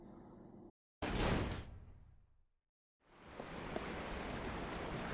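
A door opens in the survival horror game Resident Evil 0 HD Remaster: a low ambient hum cuts out, a loud heavy sliding whoosh of the door swells and fades, and after a short silence a new hissing room ambience rises in.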